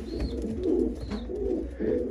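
A white homing pigeon coos softly in repeated low, throaty phrases, close by over faint background noise.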